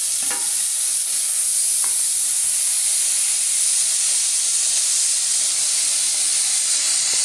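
Chopped tomatoes go into a hot frying pan, bursting into a loud, continuous sizzle and steamy hiss that holds steady throughout, with a few faint clinks near the start.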